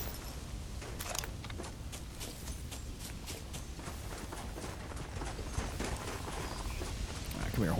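Horse hooves clip-clopping in the video game Red Dead Redemption, a steady rhythmic series of hoofbeats under a low background bed, with a voice talking faintly over it.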